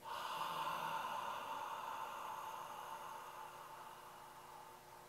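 One long, steady breath out during Misogi breathing, close and fairly faint, with a soft hissing tone that slowly fades.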